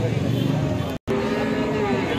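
Cattle lowing amid the busy noise of a livestock cow market at Alephata, with a steady crowd din and voices throughout, briefly cut by a short gap of silence near the middle.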